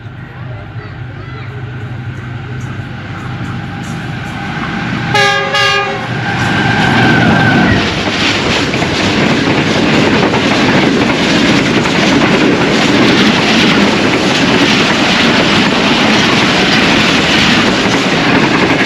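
Karakoram Express passing Chicho Ki Mallian railway station in Pakistan: a loud multi-tone horn blast, then a steady, close roar and rattle of the train rushing through that fills the rest of the clip.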